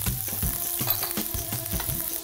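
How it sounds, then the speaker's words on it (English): Garlic, chopped chilies and red chili powder fry in hot oil, giving a steady close sizzle with repeated scraping stir strokes at a regular rhythm, no voices. "Fry just enough to warm the chili powder but not change the color"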